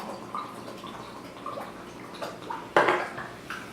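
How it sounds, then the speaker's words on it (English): Lucky Jack cold brew coffee pours from a can into a glass, with soft trickling, bubbling and faint drips, a clink partway through, fairly close and quiet. "And we're ready to pour hard."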